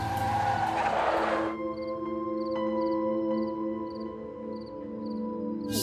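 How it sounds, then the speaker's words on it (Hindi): A car pulls up with a burst of rushing engine and tire noise for about a second and a half, then settles into a steady droning hum with faint tonal whines. "मामा की गाड़ी।"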